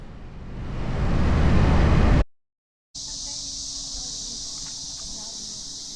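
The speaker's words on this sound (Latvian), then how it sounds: "Cikādes" At a campsite, cicadas produce a steady, high, continuous buzz after a loud rushing noise and a short moment of silence, droning on evenly without pause.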